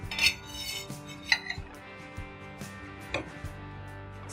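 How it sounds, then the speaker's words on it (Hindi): A spoon or ladle clinks against a metal pot and bowl as cooked dhaba-style mixed dal is served. There are a few bright, scattered taps and scrapes, fairly quiet, with no one talking. "अब मैं इसको बाउल में निकाल दूँगी"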